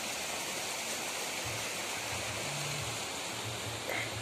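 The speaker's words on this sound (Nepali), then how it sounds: "यो है डालिम खोला गोरुबथान" Dalim Khola river at Gorubathan flowing steadily, a continuous broadband rush of water close by, with no voices and a faint low hum underneath.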